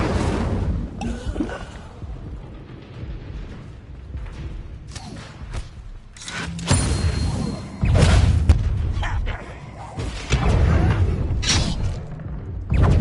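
Incendio fire spell effects in the Hogwarts Legacy video game: repeated whooshing bursts and booming impacts in uneven clusters, loud and close, with quieter gaps of background rumble between them.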